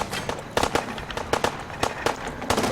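Gunfire in Fallout 4, with sharp shots cracking out in uneven clusters at moderate distance over quieter background noise.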